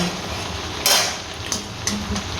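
Yogurt and black pepper are stirred together in a pot, with a low wet stirring bed and three sharp clinks of a utensil striking the pot's rim, close and loud.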